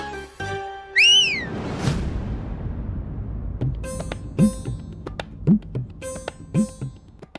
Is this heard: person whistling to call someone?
yes